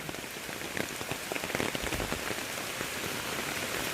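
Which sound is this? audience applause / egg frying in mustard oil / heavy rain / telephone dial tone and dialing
heavy rain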